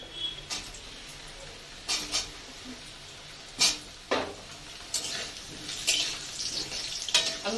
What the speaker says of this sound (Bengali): এবার আমি আলুটাকে ভাজবো